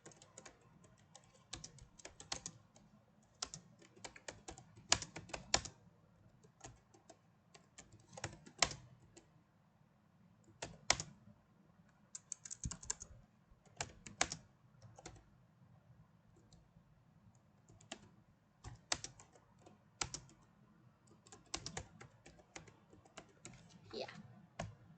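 Keys clatter on a computer keyboard during work on a Scratch calculator project, quiet irregular bursts of clicks spread through the whole stretch, close but soft.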